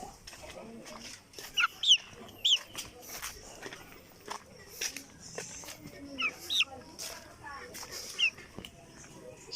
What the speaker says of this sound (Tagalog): Sisiw na sisiw.